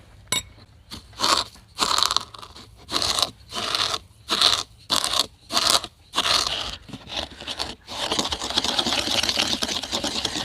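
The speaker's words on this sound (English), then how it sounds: "grinding up all the big things and then adding granulated" Whole spices for Montreal steak seasoning ground in bursts, about a dozen short loud crunching pulses in a rhythmic on-off pattern, then a longer continuous grind at the end, close and alone.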